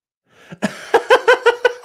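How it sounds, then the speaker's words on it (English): A short breath followed by a quick run of five or six sharp, rhythmic coughs, close and fairly loud, with nothing else around. "It was a hearty cough."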